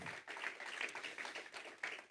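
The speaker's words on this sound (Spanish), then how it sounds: "Dar un aplauso al Señor, claro que sí" A church congregation claps together in applause, a soft, dense patter of many hands that is steady and fairly distant, with no voices over it.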